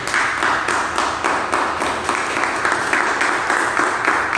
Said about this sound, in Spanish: Póngase de pie y aplauda al Señor.